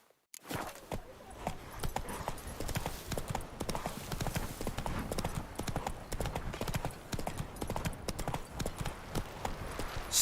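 A horse in The Witcher 3: Wild Hunt (Hearts of Stone) trots with dense, quick clopping hooves, loud and close, continuing throughout after a brief silent start.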